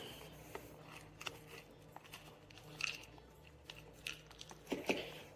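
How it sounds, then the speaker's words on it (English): An animal gnaws and bites at a plastic container up close, giving a run of irregular crunching and chewing clicks with a few sharper cracks, under a steady low hum. "Oh, no, you can't chew on the container,"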